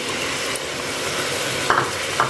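Ginger-garlic paste, tomatoes and green chilies sizzling and frying in a pan for chicken curry, a steady close hiss with a couple of brief utensil scrapes from stirring near the end.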